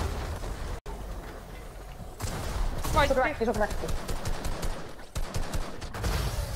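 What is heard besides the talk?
gunshots in a video game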